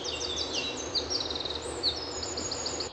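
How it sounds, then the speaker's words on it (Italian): Chorus of many birds in the flooded forest of Punte Alberete, with overlapping chirps, trills and whistles from several birds, moderately near, continuous over a soft background hiss, with no talking. "dove incontriamo il coro degli uccelli"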